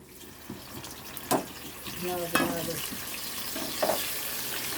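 Cloves and onion paste fry in a pan, a soft sizzle broken by a few sharp clinks and stirring scrapes. The sound stays fairly quiet and close, with no one talking.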